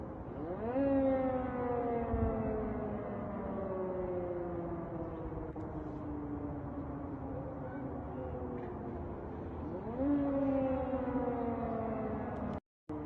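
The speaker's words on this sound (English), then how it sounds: "And now from Igor Sushko, Russia air raid sirens blared throughout Moscow this evening." Air raid sirens wail steadily from a distance over Moscow, their long rising and falling tones repeating across the whole stretch with no talking.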